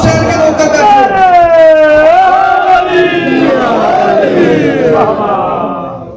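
A large crowd at a religious gathering for the 15-16 Shaban celebration at an imambargah shouts slogans in unison, a loud, sustained wavering roar of many voices that swells and fades over several seconds.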